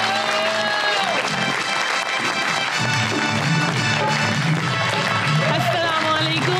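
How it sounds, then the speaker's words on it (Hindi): A crowd applauds and cheers over lively background music, steady and loud throughout, with a voice briefly heard. "आपकी भरपूर तालियों में आ रही हैं"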